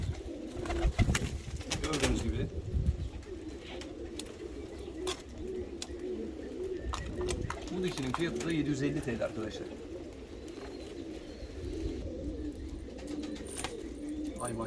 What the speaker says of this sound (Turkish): Erkek dişiyi yumurtaya kovalıyor.